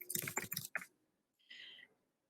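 Quick bursts of clicky keystrokes on a computer keyboard, a rapid cluster of taps followed by a brief pause and a second short flurry, close and quiet with no talking.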